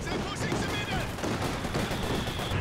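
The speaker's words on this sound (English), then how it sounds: "The big mortar shell." Mortar shell fire in Company of Heroes 2, a dense barrage of loud booming impacts and crackling battle noise throughout, with a commentator talking over it.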